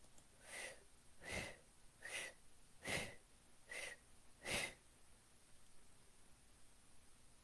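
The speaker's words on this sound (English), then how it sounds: "In and out through your mouth. Beginning the blow breath now." Six rhythmic, forceful exhalations through the mouth during a guided breathing exercise, each a breathy whoosh about a second long, evenly spaced, followed by quiet.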